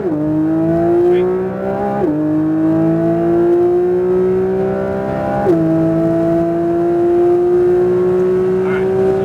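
A Porsche 992 GT3 screams at high revs on track, pitch climbing steadily then dropping sharply at two quick upshifts before rising again, loud and close from inside the car.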